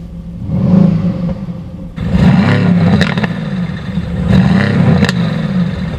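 A Mercedes-AMG GT C with its exhaust valves closed revs in repeated bursts, the engine note climbing and falling in loud, close blips over a steady idling rumble.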